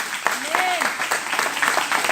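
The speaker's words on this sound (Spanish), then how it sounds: "¿No le quieres dar un aplauso," Church congregation clapping in scattered bursts during a Spanish-language sermon, moderately loud and close, with a voice speaking over the uneven applause throughout.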